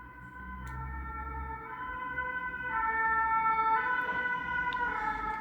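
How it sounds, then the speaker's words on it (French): An emergency vehicle siren wails in a steady two-tone pattern as it passes by, growing louder midway and staying prominent with no talk. "on a laissé passer la sirène"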